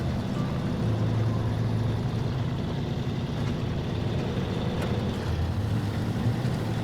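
A Kenworth truck engine in a truck-driving video game hauling a trailer, a steady low droning rumble holding at constant revs throughout, close and fairly loud with no talk over it.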